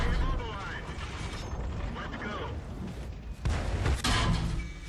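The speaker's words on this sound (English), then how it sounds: "And now the ERG's starting to take shots from the tank destroyer at the far end of the street." Cannon fire from a tank destroyer at the far end of a street in a video game, two heavy booming shots near 3.4 and 4.0 seconds rising over steady mechanical rumble and background talk.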